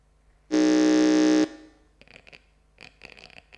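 A quiz buzzer or timeout signal sounds once as a loud, flat electronic tone lasting about a second, followed by faint scattered clicks and rustles in a quiet room.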